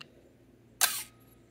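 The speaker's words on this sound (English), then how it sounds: "So that's your exposure time. That's your shutter." A 35mm SLR film camera shutter, set to a one-second exposure, fires once in a single crisp mechanical burst, close and alone in a quiet room.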